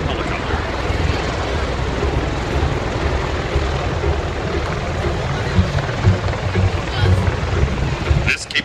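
An Osprey tiltrotor aircraft at an air show hovers backwards for a helicopter-style vertical takeoff, its loud, steady rotor and engine roar filling the whole stretch with a dense broadband drone.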